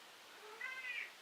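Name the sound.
cat meowing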